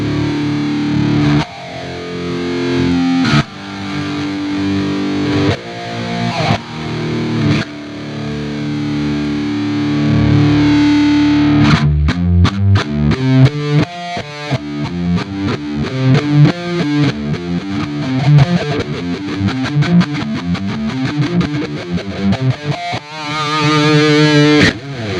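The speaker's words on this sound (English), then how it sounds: "You should hear a bit more of a pulse and kind of like a roll off of that compressor as I play." Electric guitar run through a side-chained compressor on a Quad Cortex, starting with chords and moving into rapid picked notes that pulse and roll off with each attack, loud and distorted throughout with no talking.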